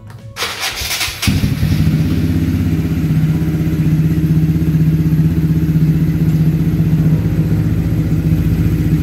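A Suzuki Satria FU 150 motorcycle engine cranks with a short starter burst, catches, and then settles into a steady, loud, close idle that holds without a break.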